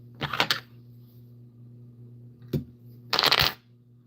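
Crack wrap is trimmed while tying a redfish fly: three short, crisp snipping bursts with quiet gaps between them, heard close with a faint hum in the background and no talking.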